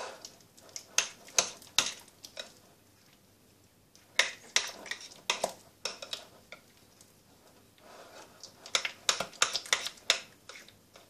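Chocolate cheesecake ingredients being mixed in a bowl, a quiet series of irregular clicking and tapping strokes coming in short clusters with pauses between them.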